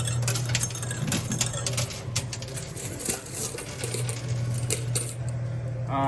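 Coins clattering and dropping inside a coin pusher arcade machine, repeated metallic clinks and jingles over a low mechanical hum, busy and continuous at close range.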